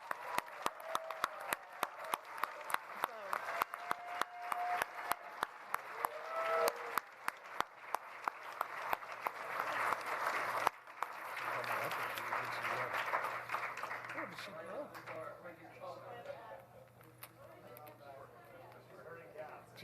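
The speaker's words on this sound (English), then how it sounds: "So we just want to give a big round of applause and call up Tanika Walker." An awards ceremony audience applauds, a broad wash of clapping rising under a host's voice, with sharp near claps standing out at first and then fading into a crowd murmur as talking continues.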